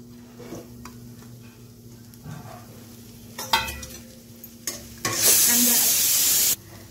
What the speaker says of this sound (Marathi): मिरची भाजल्यानंतर कांदा घालायचा।